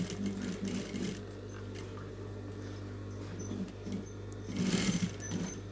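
Sewing machine stitching blouse fabric, a continuous close mechanical hum and rapid needle chatter that swells briefly near the end.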